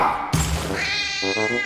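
A cat from a video game gives a loud, close meow, then a couple of short follow-up mews, after an abrupt thump-like burst; no speech.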